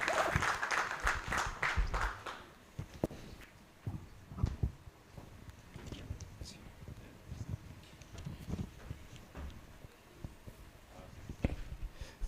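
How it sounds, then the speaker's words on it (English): An audience at a tech-enabled financial inclusion event welcomes a speaker with applause: a brief burst of fairly faint clapping at the start, then thinning to scattered claps and small knocks in a quiet hall. "we invite Honorable Naveta to come and give a round of applause"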